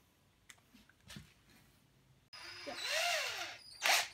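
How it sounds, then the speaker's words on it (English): A few faint knocks and scrapes, then a power drill whines up and bites into the metal of a propane cylinder, pitch rising and falling, with a brief louder burst at the end. "So let's drill that out."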